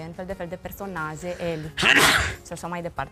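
A single sharp, loud sneeze bursts out between stretches of conversational speech during an interview, with talking resuming right after it.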